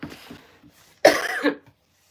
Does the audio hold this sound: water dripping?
no